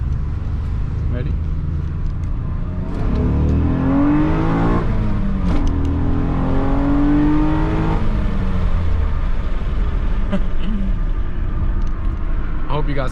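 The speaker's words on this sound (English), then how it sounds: "so you can hear sweet J series noise." A turbocharged Honda J32 V6 in an all-wheel-drive Accord revs hard through a pull with the window down, its rising engine note sweeping up over a steady rumble, recorded from inside the car while it accelerates.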